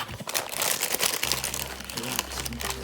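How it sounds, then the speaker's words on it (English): A foil packet of tea crinkles and rustles loudly up close, followed by a quieter low hum. "So I just got the tea, which came packed in little foil"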